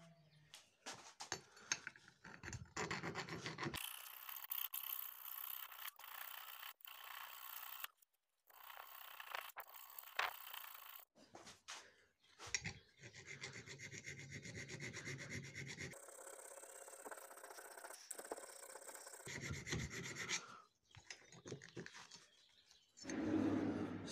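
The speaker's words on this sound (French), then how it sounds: "Ah, on va finir ça à la lime tranquillou." A hand file works a metal part, scraping in bursts of rasping back-and-forth strokes separated by short pauses, close and fairly loud, with no talk.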